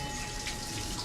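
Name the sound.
water flowing from the mouth of a Nandi statue at a temple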